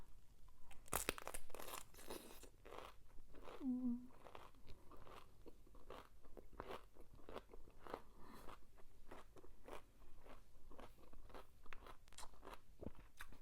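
Someone bites into and chews a crunchy fresh cucumber, with a loud crisp snap early on followed by a steady run of wet, crunching chews up close, with no talking.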